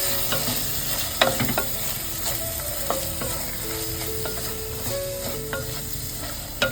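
Homemade masala with red chilli powder and turmeric sautéing in a pan, a continuous soft sizzle with scattered spoon taps and scraping strokes, close and moderately quiet.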